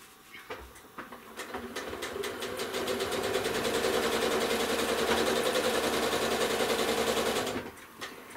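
A sewing machine stitches a chevron quilt close up, revving into a fast, even whir that holds steady for several seconds before stopping abruptly.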